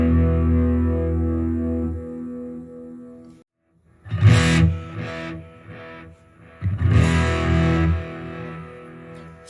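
An electric guitar played through a Mosky Black RAT distortion pedal with the treble cut gives a loud, gritty sustained chord, then silence, then two more bursts of strummed, heavily distorted chords.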